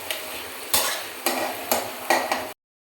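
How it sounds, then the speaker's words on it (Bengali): Onions fry in a pan, with several sharp scraping stir strokes of a spoon over a bright, continuous sizzle, close up, before the sound cuts off abruptly into silence. "দেখুন পেঁয়াজটা লাল লাল হয়ে করে ভেজে নিয়েছি"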